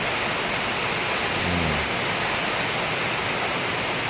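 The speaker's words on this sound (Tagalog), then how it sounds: "Kanina pa itong madaling araw umuulan. Walang tigil." Heavy, unceasing rain pours down from before dawn as Typhoon Auring approaches, a dense steady hiss filling the whole scene with no pauses, near and loud.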